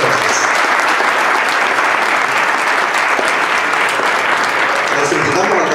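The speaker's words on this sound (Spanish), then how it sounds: "le damos un muy fuerte aplauso a ambos disertantes" Audience applause for two panel speakers at a law congress in Corrientes, Argentina: dense, steady clapping from a full room that runs evenly throughout without pause.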